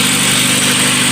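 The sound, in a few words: VW Golf/Polo MP9 engine cold start idling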